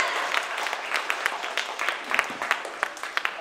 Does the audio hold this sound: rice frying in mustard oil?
no